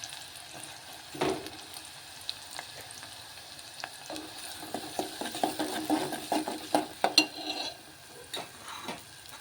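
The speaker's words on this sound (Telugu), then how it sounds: "ఆయిల్ వేడెక్కింది కదా ఒక ఉల్లిపాయ అనమాట పెద్ద పాయ చిన్న ముక్కలు కోసుకుని వేసుకోవాలి" Finely chopped large onion frying in heated oil, a soft sizzle under irregular scrapes and light clinks of a utensil against the pan, growing busier toward the end, with no voices.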